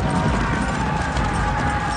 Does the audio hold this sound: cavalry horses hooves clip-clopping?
yes